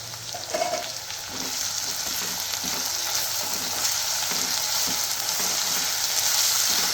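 Onions and tomatoes frying in a pan for chicken curry, a steady close sizzle with occasional stirring scrapes throughout and no talking.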